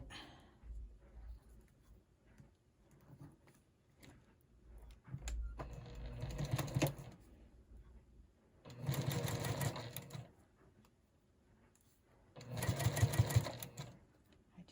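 A sewing machine stitches the many seams in the small center of a mini quilt block, three separate bursts of rapid whirring that grow longer and louder, with quiet handling noise and brief murmuring between them.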